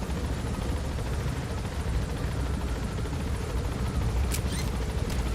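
A helicopter in the video game Metal Gear Solid gives a steady, broadband rotor-and-engine roar that holds at constant loudness throughout, with a couple of brief sharp clicks near the end.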